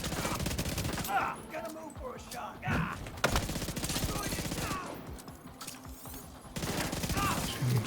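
Video game gunfire during a live stream, loud bursts of rapid shots recurring throughout with brief pauses, close and dense, with a voice talking over parts of it.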